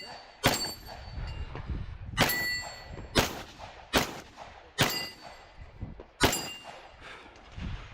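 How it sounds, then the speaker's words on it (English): Pistol shots ring on steel targets at an outdoor multigun match: six sharp, evenly spaced cracks, each followed by a brief metallic clang, with low background rumble between them. "take out their pistol, engage 1 of the farmost steel targets, before moving to the center box and engaging the steel array"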